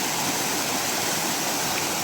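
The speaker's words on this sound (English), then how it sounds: "cautiously crosses the creek" Creek water flows steadily across a mountain stream crossing on the Appalachian Trail in Georgia, a close, loud, continuous rushing wash with no talk over it.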